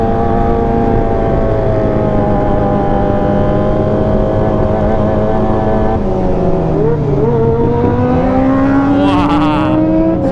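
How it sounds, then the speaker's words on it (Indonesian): A Kawasaki ZX25R motorcycle fitted with a Leovince LV10 exhaust revs loud and steady, its engine note climbing and shifting in pitch through gear changes while riding, with continuous wind and road noise throughout. "suara knalpot yang paling kenceng itu"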